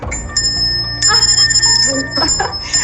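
A small school hand bell rings with bright metallic chiming, shaken a few times in quick bursts, close by and fairly loud.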